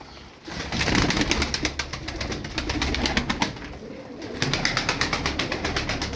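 A flock of Turkish tumbler pigeons, with soft cooing and repeated rhythmic wing-clapping bursts close by, continuous over a steady outdoor background.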